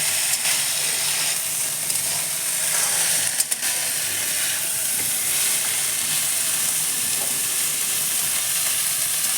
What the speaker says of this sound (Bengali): দেখি দেখুন, আলগা হাতে নাড়াচাড়া করছি।